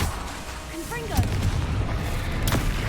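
Confringo blasting-spell explosions in Hogwarts Legacy, two sharp booming blasts about a second apart over a continuous game soundscape.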